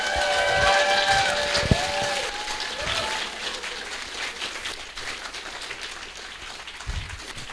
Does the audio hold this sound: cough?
no